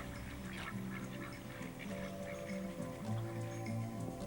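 Wildfowl calling at Potter Flats, a migratory bird feeding and nesting area near Anchorage, Alaska: faint, scattered duck-like quacks over a soft steady background of sustained tones.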